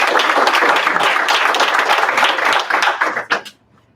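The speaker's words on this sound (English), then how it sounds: "Another round of applause for them." Applause from the audience at a school board meeting: dense, steady hand clapping that fills the room, then thins to a few last claps and fades out within about four seconds.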